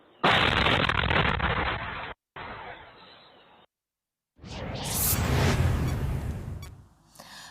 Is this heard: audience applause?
no